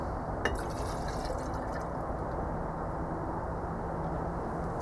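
Water mixed with kerosene is tipped out of a kerosene heater tank, giving a steady, faint trickle and splash of liquid that runs on without a break.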